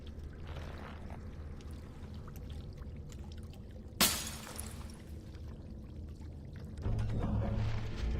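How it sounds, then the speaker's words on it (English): In Dragon Age: Origins, water and an earthen jug are dumped back into a pool: one sharp splash cuts through a quiet, steady ambient hiss, and a low droning hum follows near the end. "Dump the water and jug back into the pool."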